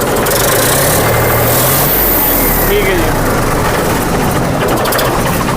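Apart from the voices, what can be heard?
tractor engine self-starting and idling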